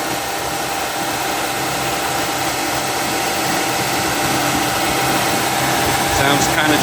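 A repaired Toyota Sequoia engine runs at a steady, loud, broadband roar with a constant hum and no breaks across the whole stretch.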